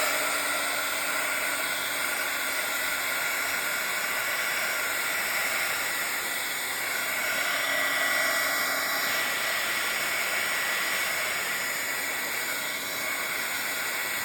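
A hair dryer runs steadily for the whole stretch, a continuous airy whoosh drying a painted Bible journal page close up. There is no talking over it.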